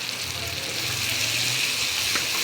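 Chicken and arvi dropped into sizzling masala in a pan, giving a steady, close hiss of frying that holds evenly throughout, with no voices.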